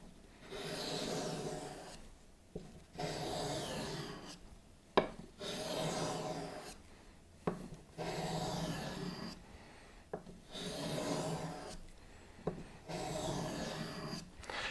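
A wood carving knife blade is pushed repeatedly across an abrasive sharpening block, making long rasping strokes at close range separated by brief pauses and small clicks.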